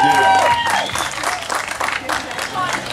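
An audience applauds a kid with a steady burst of clapping throughout, and voices rise over the crowd noise.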